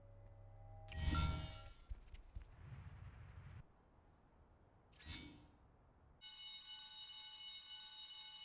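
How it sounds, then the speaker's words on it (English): An alarm sounds in the 2004 PlayStation 2 game Spider-Man 2, entering partway through as a loud, steady, sustained electronic ringing tone that holds to the end, after louder game effects and a quieter stretch. "Guess I'd better check out that alarm."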